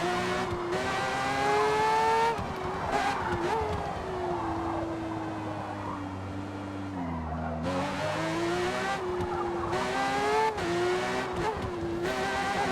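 A truck in the racing game Forza Motorsport climbs and descends a tight, narrow mountain road through Fujimi Kaido. Its engine drones steadily and loudly throughout, rising and falling in pitch with brief tire squeals as it takes the bends.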